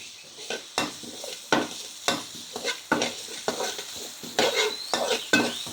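Chili, garlic, galangal and lemongrass stir-fried in oil in a pan: a spatula scrapes and clacks in a steady rhythm over a constant sizzle, close and clear.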